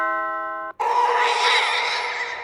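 A doorbell sounds once, a clear two-tone electronic chime whose first tone holds briefly before a second, brighter tone rings out and fades, alone with no talk.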